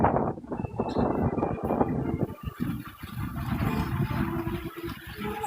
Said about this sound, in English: I swear the wind's gonna blow me over.